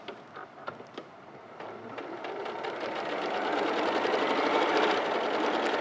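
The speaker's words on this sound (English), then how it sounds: "I just sew the speed that the machine's going" A domestic sewing machine runs fast, stitching fabric in a dense, steady mechanical whir with rapid needle ticking. It starts with a few separate clicks and builds to continuous stitching close to the mic, with no talk.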